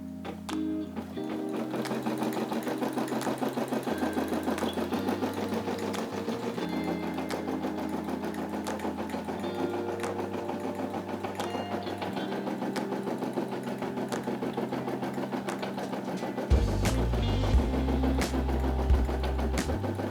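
A Brother SE600 embroidery machine stitches a family crest, its needle hammering in a fast, steady mechanical rhythm that runs the whole time under loud background music.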